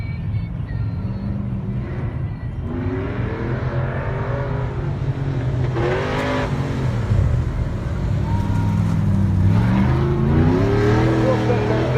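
Ford drag racing car engine revving and accelerating, pitch climbing in repeated surges that grow louder, with a voice speaking over the noise.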